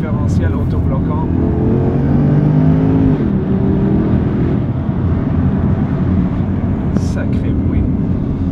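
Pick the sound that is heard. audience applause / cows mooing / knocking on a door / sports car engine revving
sports car engine revving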